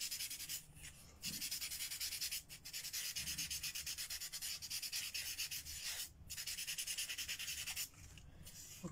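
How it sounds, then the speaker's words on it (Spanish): A small plastic ball is sanded by hand to remove impurities before thermoforming, giving rhythmic scratchy rubbing strokes with short pauses, close and fairly quiet, no talking. "Vamos a lijar impurezas para que ahorita que termoformemos no se nos marquen."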